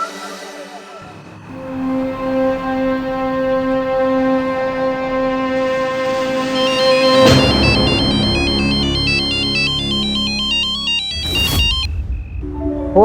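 A melodic phone ringtone plays loudly, a tune repeating over several seconds, then cuts off abruptly near the end.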